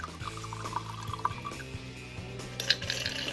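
A mixed Sazerac cocktail poured through a bar strainer, a steady close trickle of liquid over a low hum of background music, with no one speaking.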